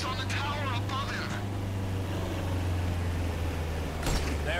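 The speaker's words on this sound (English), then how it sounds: "I hear an engine!" Vehicle engine in GTA V holding a low, steady hum throughout, with a brief louder swell near the end; voices talk over it early on.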